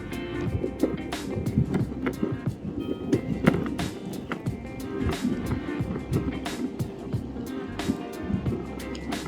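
A Backfire G2 Black electric skateboard rolls over a flat strip of fairly new blacktop carrying a 230-pound rider in eco mode, giving a steady rumbling wheel roar with scattered clacks and wind noise throughout.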